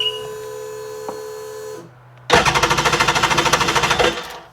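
An RXDI engine low on compression cranks over without starting, a loud rapid mechanical chatter of about two dozen even pulses for roughly two seconds after a steady electronic whine and a brief pause.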